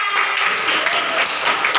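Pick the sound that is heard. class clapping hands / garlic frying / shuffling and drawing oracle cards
class clapping hands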